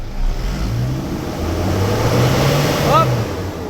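An Isuzu D-Max with a 4JH1 diesel engine and a low-power fault, tied to the EGR valve, revs up close by, its loud rumble climbing steadily in pitch before easing off.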